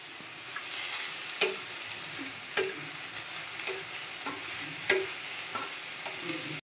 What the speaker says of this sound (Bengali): দেখো, এখন আমি দিয়ে দিচ্ছি আগে পেঁয়াজ আর কাঁচা লঙ্কা